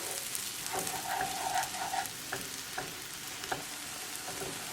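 Scrambled eggs with lobster tail cooking over medium heat in a pan, a quiet continuous sizzle with a few soft stirring scrapes and taps scattered through.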